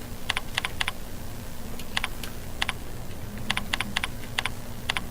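Someone types a question on a computer keyboard with scattered bursts of quick clicks and short pauses, close and clear over a low hum.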